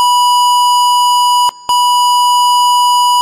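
A steady, loud pure tone of about 1000 Hz from an Arduino task in a four-bar round-robin setup holds for over three seconds, broken once by a short gap with clicks at each end.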